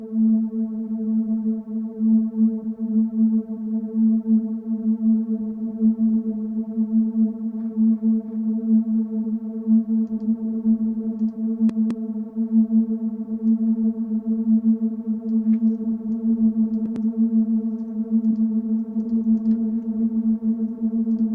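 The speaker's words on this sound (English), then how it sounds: "That one is going up in pitch the whole time and the other one is not." A Stranger Things-style synth drone hums in a dark, sustained tone with steady overtones, holding a constant, even level for the whole stretch with no voices.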